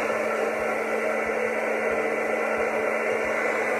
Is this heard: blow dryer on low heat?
yes